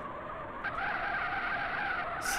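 A car drifting sideways in the game GTA on the RADMIR RP server, a tuned turbo cart, its tires skidding in one steady, loud screech for about two seconds with no talk.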